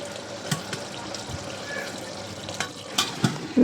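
Chunks of bottle gourd go into a pan of frying chicken curry, giving a wet sizzle with clattering stir strokes and a few splashy clicks.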